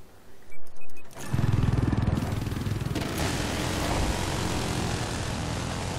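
A steady, loud rotor-and-engine drone kicks in after a second of quieter rumbling, holding constant like a close helicopter in Battlefield 4.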